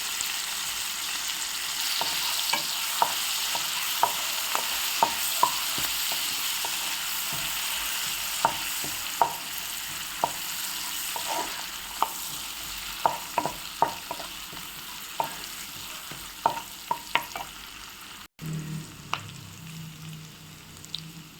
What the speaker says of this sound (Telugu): పచ్చిమిరపకాయలు ఫ్రై అవుతుండగా